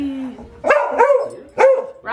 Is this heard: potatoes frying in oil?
no